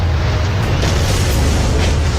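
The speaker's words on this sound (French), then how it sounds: "une violente explosion secoue tout le sud-ouest des États-Unis" A violent explosion from the Trinity nuclear test in the New Mexico desert near Socorro, heard as a loud, sustained deep rumble with broadband roar lasting throughout, no voices.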